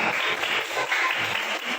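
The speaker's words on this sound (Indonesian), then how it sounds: "Tepuk tangan buat anak-anak kami yang sudah memeriksakannya." Children in a classroom get a brief burst of applause, a short wash of clapping that lasts under two seconds.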